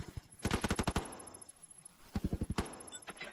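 Gunfire rings out in the video game Delta Force as two short bursts of rapid shots, the first longer and the second brief, over quiet background ambience.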